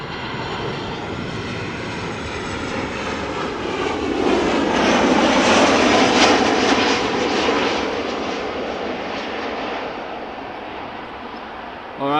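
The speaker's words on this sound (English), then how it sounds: "KLM 737-800 arriving from Paris Charles de Gaulle" A KLM Boeing 737-800 arriving at Amsterdam Schiphol from Paris roars loudly past, its jet engine noise swelling to a peak midway and then easing off, with faint talk underneath.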